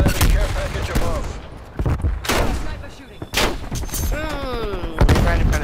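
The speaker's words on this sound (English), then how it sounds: "Sniper shooting" Sniper rifle shots crack out repeatedly in a military shooter game match, loud sharp reports spaced a second or so apart over busy gunfire, radio chatter and game effects.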